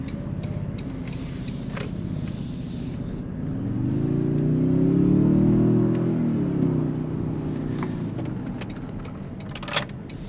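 A 2023-2025 Toyota Sequoia accelerating on the road, a low engine drone that swells into a rising roar around the middle, then eases back under steady road and cabin noise.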